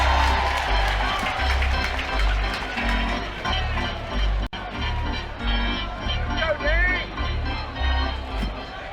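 A college baseball crowd at Florida vs Tennessee cheers and claps after a nice play on a windy outdoor day, a broad, steady roar with scattered applause that swells and dips throughout.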